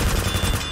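A fast, brief burst of MP7 submachine gun fire in a Roblox game, rapid close shots running together for under a second.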